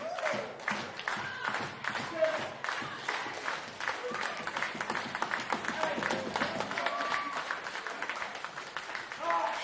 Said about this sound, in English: You can hear the crowd really appreciating it.